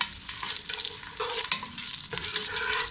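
Ground spice paste for restaurant-style gravy chicken sautés in a pan, giving a steady close sizzle broken by repeated scraping stirs, with no talking.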